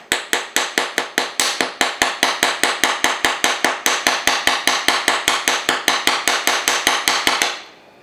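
A hammer taps a wire-and-bead bracelet link on a hammer block in a steady run of about forty quick, even, ringing metallic strikes, close and alone, stopping abruptly near the end.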